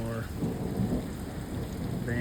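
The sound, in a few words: hailstorm with thunder hitting a van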